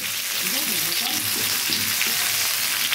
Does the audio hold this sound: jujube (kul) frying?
yes